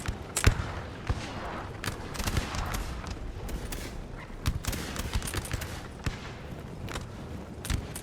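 Artillery and musket volleys in the Napoleon Total War video game rattle out as dense, irregular crackling bursts of gunfire with heavier booms, continuous and fairly loud throughout.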